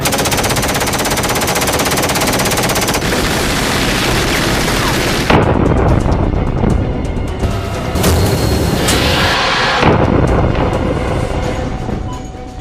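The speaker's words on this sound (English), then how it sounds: "Cleared to fire. Alright, firing." Sustained automatic gunfire from an action movie scene, loud, rapid and continuous bursts with heavy booms and shifting intensity, mixed with explosive blasts and rumbling, with no talk.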